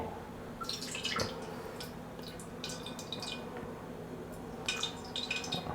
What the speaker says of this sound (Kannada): ನೋಡಿ ಆಲ್ರೆಡಿ ಕಾಯ್ದಿದೆ ಫುಲ್ಲು ಪಟ ಪಟ ಪಟ ಅಂತ ಬರ್ತಾಯಿದೆ